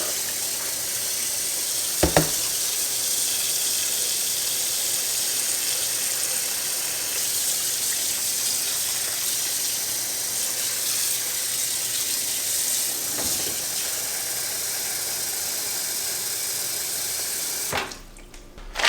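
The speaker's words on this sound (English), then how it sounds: "you need a big bowl here. All your fish in there. Fill with water." Tap water runs steadily into a big bowl holding fish for pickling, a continuous close hissing stream lasting nearly twenty seconds with a couple of brief knocks, ending with a clunk.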